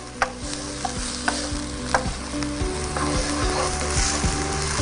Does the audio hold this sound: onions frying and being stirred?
yes